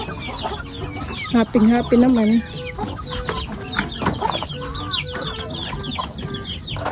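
Chickens cluck and squawk nearby at a backyard fishpond, a busy overlapping flock with a few louder calls, while people talk in the background.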